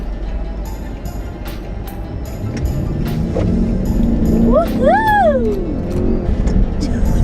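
A 2016 Chrysler 300C SRT8 builds engine revs during a ride, a rising drone swelling under cabin noise while a passenger whoops loudly partway through.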